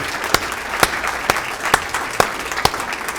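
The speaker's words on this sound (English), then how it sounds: "Let's have one more round of applause for all of our inductees in the 2025" Audience applause at the 2025 Waggener Hall of Fame induction ceremony, a steady wash of clapping from a large crowd with a few sharper, louder bursts recurring roughly every half second, no voices over it.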